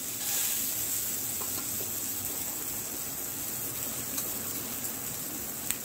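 An oats pancake fries in an oiled pan, giving a steady, close hiss of sizzling oil with a few faint scrapes and taps as it is turned, no talk.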